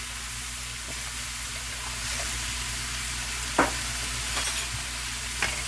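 Minced garlic sautéing in a pan for a pita bread breakfast pizza, a constant broad sizzle with occasional soft clicks of stirring, close and steady with no talk.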